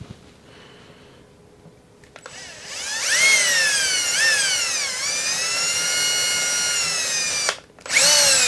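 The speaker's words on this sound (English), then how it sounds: "So I'm just going to drill very slowly so I don't get tear out." Power drill slowly boring stud holes into a wooden SG-style guitar body during a custom build, a steady whining motor tone with slight pitch dips, running several seconds before a brief stop and restart.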